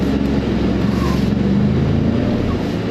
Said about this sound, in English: this is a turbo truck, so you still have turbo lag